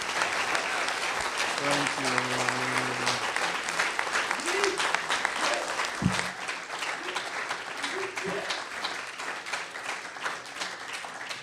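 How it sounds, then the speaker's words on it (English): An audience at an evening event with a filmmaker breaks into a sustained round of applause that stays loud and dense throughout, while a speaker's voice comes through briefly over the clapping. "One more round of applause"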